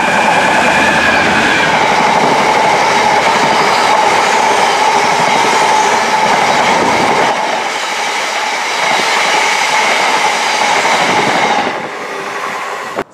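A train runs loud and close through Penkridge railway station on a diverted line, a continuous rushing roar with clattering wheels that eases slightly partway through before fading away at the end.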